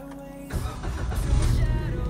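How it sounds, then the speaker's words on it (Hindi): A car engine cranks and catches after its battery is replaced, then settles into a loud, close idle that keeps running after a brief start. "अल्हम्दुलिल्लाह जी गाड़ी साड़ी स्टार्ट हो गई है।"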